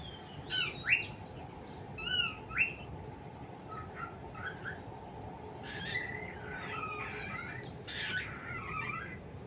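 A cockatiel whistles and chirps a lilting tune in short phrases over a steady background hiss, moderately distant.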